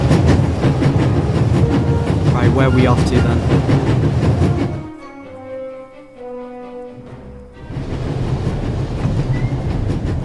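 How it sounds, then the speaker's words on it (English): Train carriage rumble and steady clickety-clack while riding on top of a moving train in The Raven adventure game, loud and continuous, briefly muffled midway, with someone talking over it. "We're on top of the train. There's nothing quite like traveling on a train."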